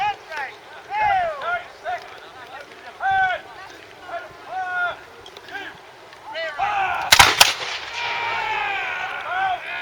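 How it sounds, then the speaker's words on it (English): A volley of period muskets fired by a company of musketeers at a Sealed Knot English Civil War reenactment: one loud, crackling burst of shots fired together, set amid high warbling calls and background voices. "Another volley coming up."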